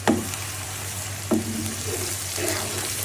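Tomatoes sizzle and fry in a pan with roasted dal, giving a steady low crackle, with a few sharp clatters of stirring.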